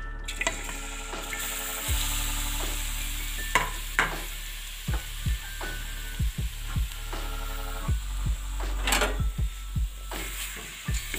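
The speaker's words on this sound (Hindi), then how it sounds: "अब इसमें डाल देंगे हम गाजरें और इन्हें हम भून लेंगे।" Carrots for gajar ki kheer fry in lightly hot oil in a pot, a steady low sizzle under a background hum, punctuated by a dozen or so sharp spoon taps and scrapes against the metal as they are stirred.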